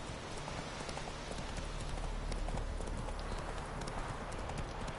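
Horse hooves clip-clop steadily in a video game, an even trotting rhythm that runs the whole time over a dense backdrop that sounds like rain.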